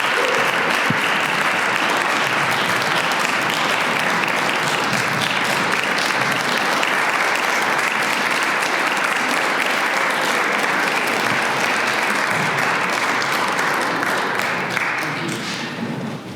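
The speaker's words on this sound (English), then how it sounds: "would you give a rousing round of applause to our new members as they make their way back to their seats?" Church congregation gives a long, rousing round of applause for new members returning to their seats, steady dense clapping that fills the room for over fifteen seconds before tapering slightly.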